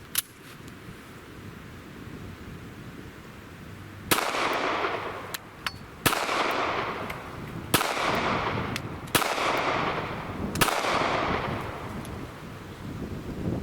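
A Ruger LCP pocket pistol fires hand-loaded rounds at a range, six sharp, loud reports spaced a second or two apart, each followed by a short ringing decay over a low background hum.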